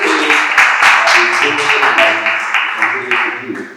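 Audience applause at a Black History Month 2021 event, a steady wash of clapping that runs for several seconds with voices mixed into it.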